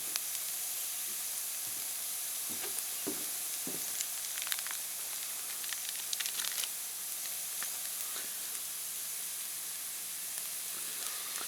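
Ground beef sizzles and fries steadily in a hot pan, a constant close hiss with scattered crackles and a few brief scraping stirs, no talk.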